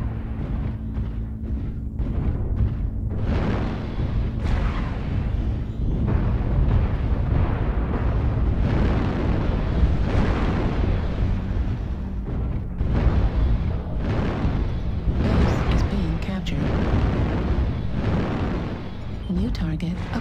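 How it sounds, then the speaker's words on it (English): Incoming missiles striking in the Battletech video game, a dense, continuous barrage of rumbling explosions and bursts, loud and close, mixed with a voice speaking over the blasts. "Warning, incoming missile."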